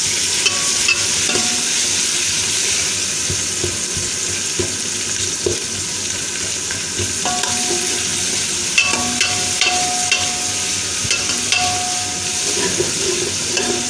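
Tomatoes and spices frying in ghee for dhaba-style aloo gobi give off a continuous close sizzle, with occasional spoon stirs and scrapes and a few brief tonal clinks, no voices.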